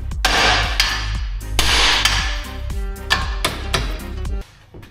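Sharp metal hammer strikes on a gearbox part from a Citroen Relay van with clutch failure, about a dozen loud ringing whacks in a fairly steady rhythm, close to the microphone with no talking.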